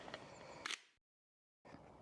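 Two quick mechanical clicks from a Sony Alpha camera shutter taking a photo outdoors, crisp and close, with a short silent pause between them.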